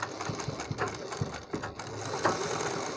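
Sewing machine stitching fabric loops onto a neck design, a soft, quick mechanical ticking and whirring of the needle drive running steadily, close and quiet, without voices.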